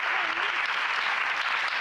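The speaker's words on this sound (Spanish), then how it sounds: "Un aplauso para ellas, para ellos." Steady audience applause at a mental health event, a continuous even wash of many hands clapping, moderately distant and fairly soft, with a brief faint voice tone near the start.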